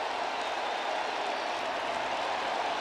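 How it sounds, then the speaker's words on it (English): A baseball crowd at Fenway Park cheers and applauds as a walk loads the bases with two out, a dense, steady roar of many voices heard from a distance with no individual words. "And the crowd at Fenway springing to life."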